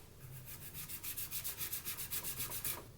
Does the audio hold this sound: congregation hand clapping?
no